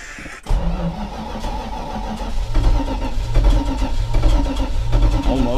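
A 1984 Dodge Ram with engine trouble and an empty fuel line cranks and sputters, briefly catching with uneven rumbling surges as it strains to start, loud and close.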